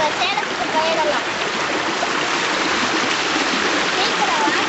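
A forest stream rushes and splashes nearby, a loud, unbroken broadband flow with faint high whistling sounds drifting over it.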